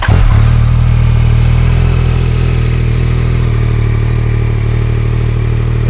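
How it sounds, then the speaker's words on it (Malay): Steady idle from a 2022 Yamaha MT-09 motorcycle engine with a stock exhaust, a loud, low, even rumble heard close up after a brief startup clatter, with no talking. "Ini bunyi idle dia."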